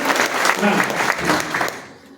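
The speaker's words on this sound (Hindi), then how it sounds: "बहुत बढ़िया, जोरदार तालियां।" An audience at a business seminar breaks into steady, loud applause, dense clapping from many hands sustained for a couple of seconds before tapering off, with a voice heard briefly.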